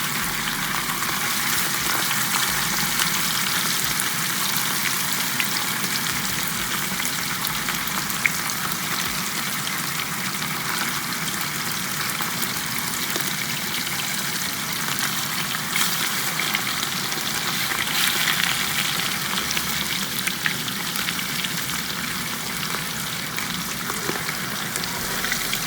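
Oxtails sear in a hot pan, a continuous, close, rain-like sizzle and crackle of spitting fat that holds steady throughout with small pops, with no talking.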